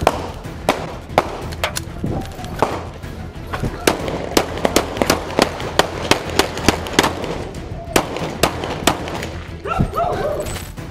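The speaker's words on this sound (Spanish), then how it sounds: "Los disparos resonaron en el aire" Gunfire from a police shootout in a residential neighborhood: a long series of sharp, loud bangs at irregular intervals, some in quick bursts, with voices underneath.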